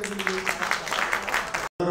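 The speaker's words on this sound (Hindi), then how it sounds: "एक जोरदार ताली बजा दीजिए" Steady applause from an audience at a radio program launch event, with a voice speaking over it, cut off abruptly near the end.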